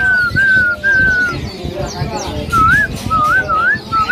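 A magpie robin whistles clear, looping phrases in short bursts, close and loud, with chatter and background noise between the phrases.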